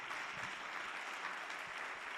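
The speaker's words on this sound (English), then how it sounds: "please give yourselves a loud round of applause" Applause from an audience at a youth weekend event in the Northern Cape, a steady, even wash of clapping that carries on throughout at a soft, somewhat distant level.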